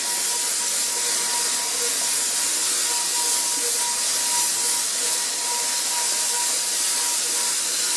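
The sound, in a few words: paint sprayer spraying projector screen paint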